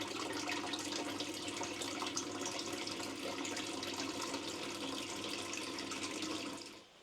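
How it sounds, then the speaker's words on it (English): Flood water is pumped out of a 200-year-old rectory into an outside drain, giving a steady, faint rushing and gurgling flow that fades out at the end. "And that just pumps all the water out into the, just straight into the drain outside."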